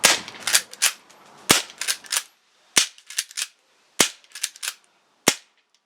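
An A&K 1892 Mare's Leg lever-action airsoft rifle fires outdoors on a chilly day. Sharp, loud snapping shots come in quick clusters with short lever-cycling clicks between them, and no one speaks.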